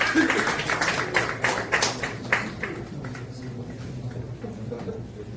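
Scattered clapping from a Democratic Party election committee gathering in Jeju at an award ceremony, a handful of distinct claps in the first few seconds that thin out and fade into room tone.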